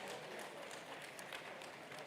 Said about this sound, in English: Please clap for Mrs. Ijeoma Ozulumba.